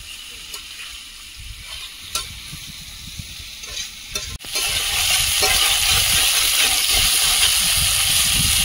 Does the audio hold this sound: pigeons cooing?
no